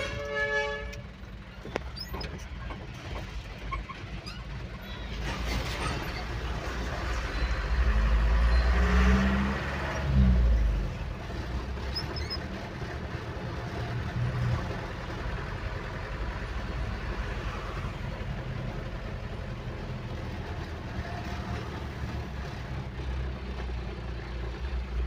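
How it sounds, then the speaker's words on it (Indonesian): Large loaded trucks, one apparently carrying fertilizer, pass on a rough road partly of poured concrete and asphalt, with a rising engine rumble peaking midway, a brief horn early on, and a steady drone afterward. "rata-rata mobil yang melintas ke sini adalah mobil-mobil besar bermuatan"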